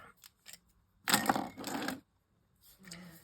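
Several crisp snipping and rustling bursts of scissors cutting paper, close and fairly loud, separated by short pauses.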